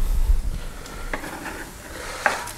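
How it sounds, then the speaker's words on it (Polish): Soft sizzling of tomato paste frying in a pan, with a few scrapes and clinks of a utensil stirring. "Już jest pasta pomidorowa smażona."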